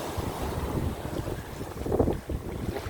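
Strong gusty wind buffets the microphone at seaside rocks at Adeul Rock Park in Jumunjin, Gangneung, a continuous low roar with rough waves surging underneath.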